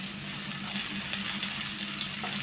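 Curry leaves and garlic-ginger paste frying in hot oil with cumin, a dense continuous sizzle and crackle heard close up, steady throughout with no talking.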